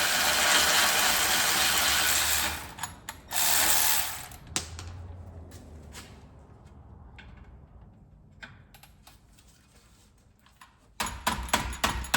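Ratchet wrench working the 17 mm disc brake bracket bolts off a Subaru during a hub bearing job, bursts of rapid close clicking separated by pauses and quieter handling noise.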